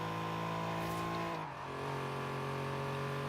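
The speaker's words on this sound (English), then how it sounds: "this Cyclone does not like having its clutch dropped" The Cyclone car's engine drones loud and steady in Forza Horizon 3, its pitch dipping briefly as the clutch is dropped before the revs hold again at high strain.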